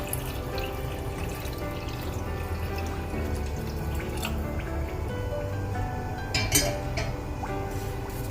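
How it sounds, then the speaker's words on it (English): Water is poured into a pan holding three cups of sugar on a gas stove for syrup, a continuous liquid splash with small clinks and drips, fairly close, with no talking. "in goes 3 cups of sugar and equal amount of water, that is 3 cups of water"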